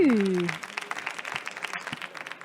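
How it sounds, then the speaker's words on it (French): Audience applause closing a presentation at an AI governance conference, a dense wash of clapping that starts just after a brief voice tone and keeps an even, moderately loud level throughout. "On les applaudit, merci."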